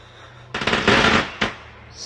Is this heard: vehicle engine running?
no